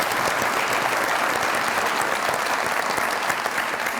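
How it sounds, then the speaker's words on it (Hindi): Loud, steady applause from a studio audience at a comedy talk show, dense clapping filling the whole moment without letup. "बहुत सारी तालियां इनके लिए"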